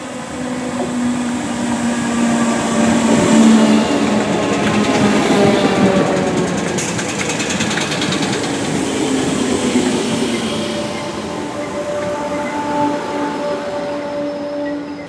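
Merseyrail Class 508 unit 508111 in The Beatles Story livery passes a station en route to Chester, a loud sustained rumble of wheels and motors with clickety rail joints, swelling and slowly fading.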